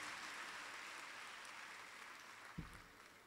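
Audience applause at a school closing ceremony, a steady broadband wash of distant clapping from a crowd that holds evenly, with one brief low thump near the end.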